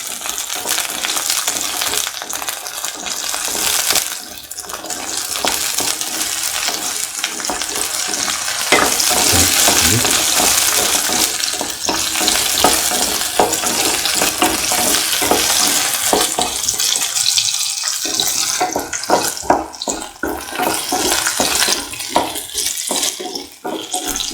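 Shallots sautéing in a pan for a yam potato stew, a steady broadband sizzle with frequent stirring scrapes and clatters running loud and close throughout.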